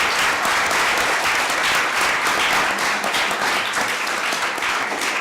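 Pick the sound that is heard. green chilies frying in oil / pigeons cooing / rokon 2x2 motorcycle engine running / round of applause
round of applause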